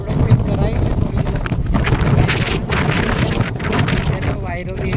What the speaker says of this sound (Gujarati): વાયરો બી બહુ બધો આવે છે, બહુ બધી હવા આવે છે